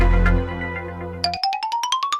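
After a fading electronic tone, a mobile phone ringtone plays on a placed call: a quick run of about eight bright, rising beeping notes, clear and close with no talk.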